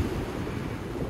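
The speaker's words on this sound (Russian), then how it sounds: "Море слегка волнуется" Black Sea surf at Sochi rolls in steadily under gusting wind buffeting the microphone, a dense low rumble with no voices.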